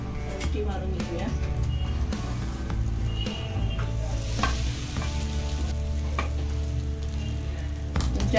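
Sandwich toasting in a hot pan on a gas stove, a steady soft sizzle with occasional scraping and turning sounds as it is flipped, under a voice talking.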